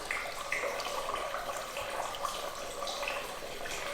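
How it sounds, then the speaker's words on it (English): Distilled water pours steadily through the coolant system of a Kawasaki ZX6R motorcycle during a coolant flush, a faint continuous trickle and splash with no speech. "I'm going to start pouring a little bit more distilled water in."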